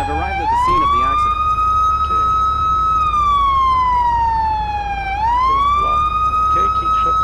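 A police car siren in a police simulator video game wails loudly and continuously, its pitch sweeping up and down slowly over a low engine rumble.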